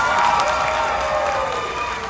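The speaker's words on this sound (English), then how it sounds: "Ready? Applause!" A steady, dense wash of audience applause with scattered cheers and children's shouts fills the space at Mrs. Claus' Magic Kitchen, a SeaWorld Orlando Christmas show, holding loud and even throughout.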